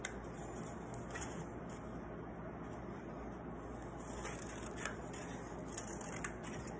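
Scissors snip through paper strips in a quiet room, giving a faint, soft run of small crisp cuts with a few slightly louder snips.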